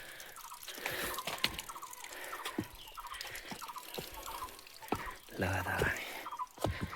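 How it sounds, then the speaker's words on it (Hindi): Water trickles and drips steadily at an old spring in an abandoned Himalayan mountain village, heard close with regular drips beneath someone speaking. "यहाँ पानी आ ही रहा है"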